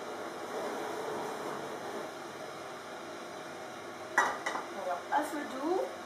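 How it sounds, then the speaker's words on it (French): Leeks go into a frying pan over low heat with a little olive oil, giving a faint steady sizzle followed by a few brief clinks and scrapes of utensils against the pan near the end. "on met les poireaux dans la poêle et au feu"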